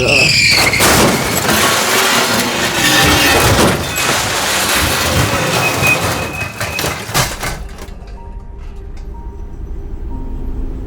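Tyres squeal loudly in a prolonged skid on a busy road, with a dense burst of noise and impacts before the racket cuts off into quieter traffic hum.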